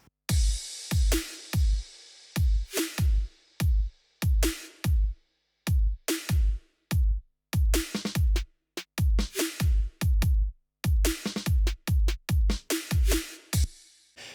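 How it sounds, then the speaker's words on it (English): A basic drum pattern: deep kick thumps alternating with crisp snare hits in a steady groove, loud and close, with no talking. "The drums altogether sound like this."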